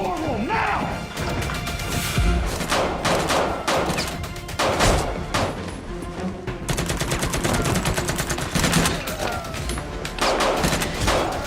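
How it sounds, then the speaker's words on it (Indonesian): Gunfight scene in an action film, with dense bursts of gunfire and sharp crashing impacts hitting steadily and loudly all the way through, over a busy soundtrack. "kemudian terjadi aksi baku tembak yang sangat epik"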